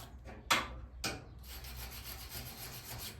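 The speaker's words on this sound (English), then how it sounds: "at least we got that new wire brush to do all that with" A new wire brush scrubs dust off a 1971 Ford F250 tail light part, giving a close, steady rasping scrape after a couple of sharp strokes, with no talking.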